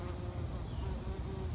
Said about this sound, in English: That little bee is busy this morning.